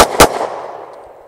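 Two sharp, loud gunshots from a Smith & Wesson M&P9 Compact 9mm pistol firing defensive ammunition at a range, the second louder, each followed by a decaying echo.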